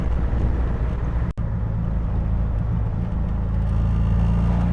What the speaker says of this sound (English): the TR3 is a very responsive car